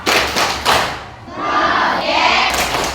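A school class performs the rhythmic P5 clap in unison, a few loud thudding hand-claps in a patterned beat from a group of pupils, with crowd noise around them.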